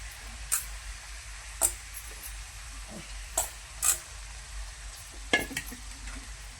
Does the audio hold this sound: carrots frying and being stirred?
yes